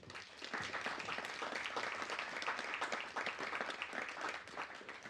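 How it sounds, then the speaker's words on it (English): A seated audience at an agricultural show session gives a round of applause, a dense crackle of many hands clapping, moderately distant and sustained for several seconds. "So one final round of applause."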